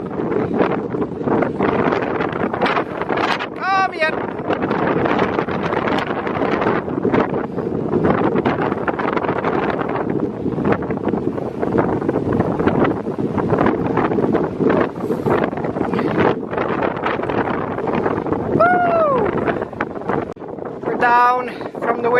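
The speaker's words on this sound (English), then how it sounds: "windy part of the mountain" Strong, buffeting wind roars steadily across the microphone on an exposed mountainside, with faint calls to sled dogs briefly heard through the gusts.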